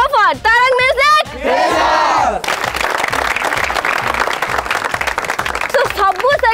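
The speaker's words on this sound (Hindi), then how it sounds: "मो तरफ से जोरदार ताली" Audience at a college freshers music show, Radhaballav Mahavidyalaya in Bairipur, Puri, breaking into loud, sustained applause and cheering that starts after a brief stretch of amplified voice and music, then a cheer at the end.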